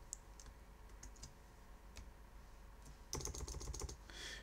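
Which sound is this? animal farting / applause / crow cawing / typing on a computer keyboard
typing on a computer keyboard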